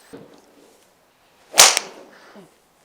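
A single sharp, crisp crack of a 2025 Wilson golf driver striking a ball, loud and close, with quiet surroundings before and a brief fading tail after.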